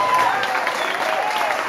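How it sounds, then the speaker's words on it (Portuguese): Congregation applauding during a church sermon, a brief, dense burst of clapping with a voice carrying over it. "É a este que você deve aplaudir."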